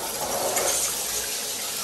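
A weak stream pours from one of three shower heads in a renovated bathroom in Thailand, a steady close hiss of spraying water running on its own without speech.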